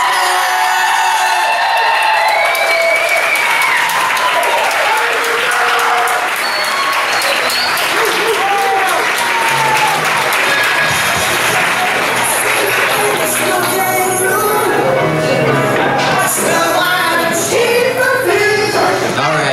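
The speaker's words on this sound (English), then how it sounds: "Please get up right now and make some noise for Aaron's birthday" A crowd at a comedy roast for a birthday applauds loudly and continuously, with whoops and cheers rising above the sustained clapping.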